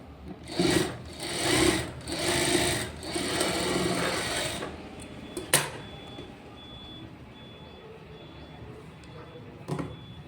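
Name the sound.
computer embroidery sewing machine stitching a blouse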